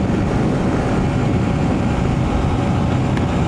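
A Honda CB125F single-cylinder 125 motorcycle with a 120cc fuel injector hums at a steady rumble while riding, the engine drone blended with constant wind roar and no voices.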